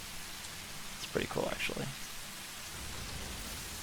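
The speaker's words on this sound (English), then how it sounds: "This is actually kind of a downpour." Heavy rain downpour in the factory-building game Satisfactory, a steady broadband hiss throughout, with someone talking briefly over it midway.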